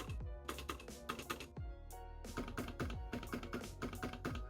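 Rapid typing on a Varmilo VA87M wireless keyboard with silent red switches: close, muffled clacks in a quick uneven rhythm, with deeper thuds from the spacebar among them.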